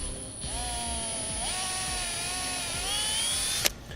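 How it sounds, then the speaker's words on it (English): A power drill bores a 1/8 inch pilot hole into a carpeted wooden bunk board for a boat trailer, a continuous whining motor hum with slight pitch shifts over four seconds, ending in a brief click. "I'm going to use an 1/8 inch drill bit and get a little pilot hole going"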